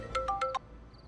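A phone rings with an incoming call, four quick electronic tone bursts in a short melodic pattern, fairly close, then stopping.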